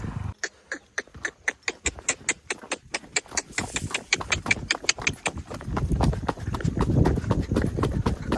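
A Kathiyawadi horse carries a rider on a long ride, its hooves clip-clopping in a quick, steady rhythm of sharp, close strikes, while a low rumble builds underneath toward the end.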